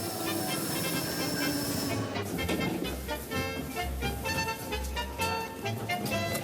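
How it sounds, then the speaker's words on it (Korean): A Swiss mountain railway train climbing Rigi gives a steady, close rumble with hissing and clattering that runs the whole stretch, and there are no voices. "유럽 최초의 산악열차를 타고 20여 분을 오르니 하얀 세상과 마주하게 된다"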